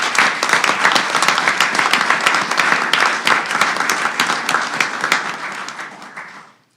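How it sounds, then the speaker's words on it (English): A roomful of people at a board of trustees meeting gives a loud, dense round of applause that holds steady for several seconds before fading out. "can we give all of these individuals a round of applause?"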